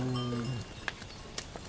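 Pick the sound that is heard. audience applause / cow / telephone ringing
cow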